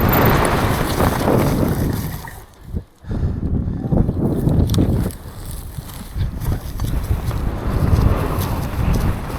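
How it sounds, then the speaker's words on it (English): Strong, gusting wind buffets the microphone on a mountain bike trail at Bryce Bike Park, a continuous loud roar that drops briefly to a lull near the middle before surging back. "Windy, super windy."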